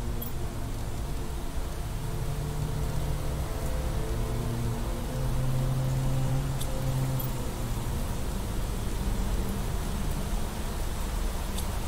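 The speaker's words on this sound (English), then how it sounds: "And it's raining." Steady rain in the survival game Planet Crafter hisses continuously as a dense, even wash of noise, with a low ambient drone underneath and no talking.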